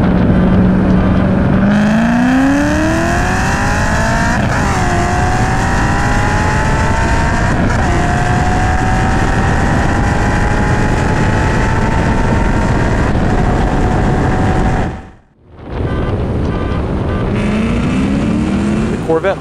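Mustang with an all-motor 4.6 engine drag racing a Corvette, engines loud and close, climbing in pitch through the gears with shift breaks and a brief drop-out before the revving resumes.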